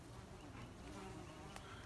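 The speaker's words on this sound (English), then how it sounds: "There's honeybees back here." Honeybees buzz steadily and faintly among wisteria in a garden, a continuous low drone with a brief sharper flick near the end.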